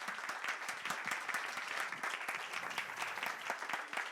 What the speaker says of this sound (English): You can leave your phones down just to give Andy a round of applause.